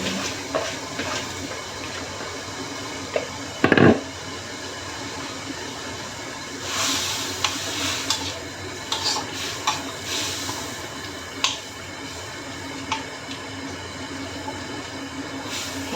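Steady rumbling hiss with a bubbling, churning texture as water reaches a rolling boil in a pot, with a few sharp clinks and knocks breaking through.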